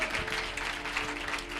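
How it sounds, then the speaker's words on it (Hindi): Church congregation clapping loudly during a Hindi sermon, dense steady clapping over a sustained background tone, brief and continuous. "जोर से तालियां बजाओ,"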